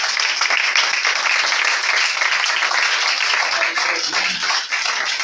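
A church congregation applauding and cheering in praise, with steady, dense clapping sustained loudly throughout and a few voices mixed in.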